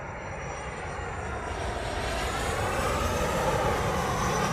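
An airliner on close approach to runway 25 at Montego Bay, Jamaica, sends up a broad jet-engine roar that swells steadily louder as it nears.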